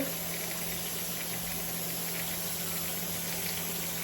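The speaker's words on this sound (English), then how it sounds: "the rice and peas is bubbling away" Jamaican rice and peas boiling in a pot, a steady, dense bubbling rumble with a constant hum, close and unbroken with no talking.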